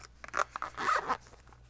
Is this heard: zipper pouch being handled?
yes